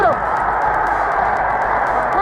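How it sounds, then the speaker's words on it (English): A baseball stadium crowd at a World Series game roars steadily after a record-breaking strikeout, a loud continuous wash of cheering and shouting with no pause. "Listen to the crowd!"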